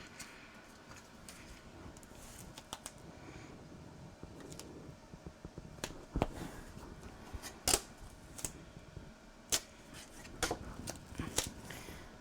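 Scissors cutting paper for a Halloween cemetery pocket, a series of quiet, close snips and crisp clicks scattered irregularly over a soft background rustle, growing denser toward the end.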